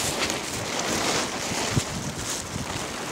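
Steady wind blowing across a fishing lake, a broad continuous rush with soft gusty swells and light buffeting on the microphone, alone and fairly faint.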